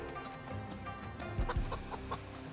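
Chickens cluck and call in the farm game Project Zomboid, a steady scatter of short clucks over a busy ambient bed, with a couple of louder, closer bursts near the middle.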